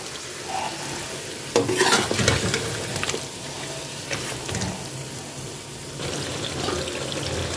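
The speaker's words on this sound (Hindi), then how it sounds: "और अच्छी तरह इसकी भुनाई करेंगे 3 से 4 मिनट तक।" Chicken curry masala with softened tomatoes and powdered spices fried and stirred in a pan, a close hissing sizzle with bursts of scraping and clattering stirring, loudest midway, then settling to a steady fry, no speech.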